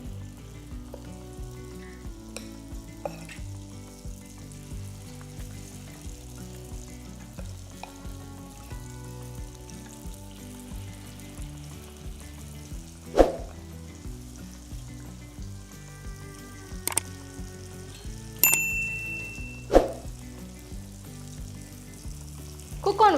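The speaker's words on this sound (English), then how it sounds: "take a small ladle of the batter and gently drop it into the oil" Ladle of batter frying in a pan of hot oil, a steady close sizzle and crackle with occasional sharper pops, running alone and fairly quiet throughout.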